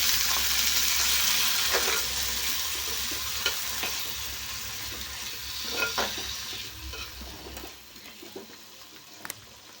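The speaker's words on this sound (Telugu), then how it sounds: "ఇవి వేయించుకునేటప్పుడు మీడియం ఫ్లేమ్లో వేయించుకుంటే మసాలా బాగా ఉడుకుతుంది" Ground masala paste for potato egg curry frying in a pan over medium flame, a soft steady sizzle with intermittent scraping stirs, fading quieter toward the end.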